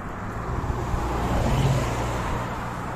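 Steady, continuous road traffic roars past on a busy road near Barcelona and Garraf, a dense wash of car noise with no clear gaps and no talking.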